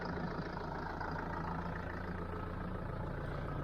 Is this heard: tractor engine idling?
yes